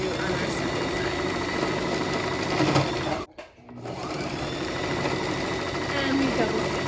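Sewing machine running steadily while stitching a fabric face mask, a continuous close whir with a brief stop partway through before it resumes.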